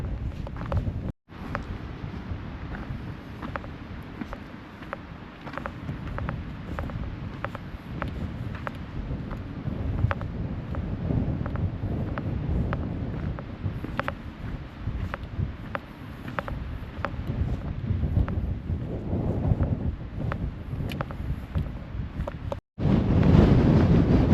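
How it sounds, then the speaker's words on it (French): Strong wind buffeting the microphone on a coastal hiking trail at Ponta de São Lourenço, Madeira, a loud continuous roar with gusts throughout and two brief dropouts. "Énormément de vent."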